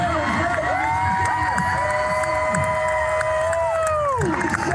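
A large crowd at a Renaissance faire cheers and shouts loudly and continuously, with whoops and raised voices blending into a steady roar.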